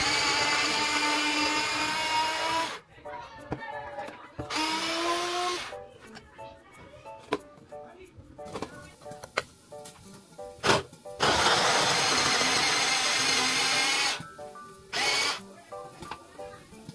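A small electric food chopper from Shein runs in several bursts, a high whirring buzz that starts and stops repeatedly, with quieter pauses between pulses.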